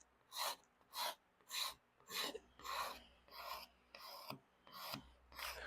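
Repeated rasping strokes of a flat scraper stripping old finish during a full restoration, about nine even, loud, close passes in steady rhythm with short gaps between them and no talking.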